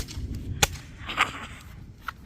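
Fireworks shot off outdoors during a Fourth of July firework battle, three sharp cracking pops spaced unevenly over a couple of seconds, the first the loudest, with no voices in between.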